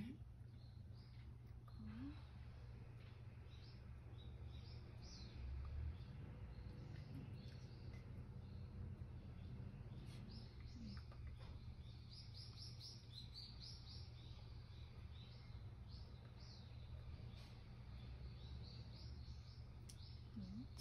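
Small birds chirp and call repeatedly outdoors in short, busy bursts that sound like squabbling, moderately distant and steady throughout over a low constant hum, with faint bits of background activity.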